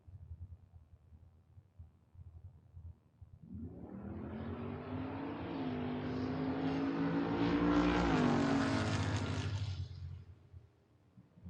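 Drag race cars at a Door Wars drag racing event, including a Mustang, launching and roaring down the track: a quiet idle gives way to a loud, rising engine roar that peaks and fades as the car passes, with no talk.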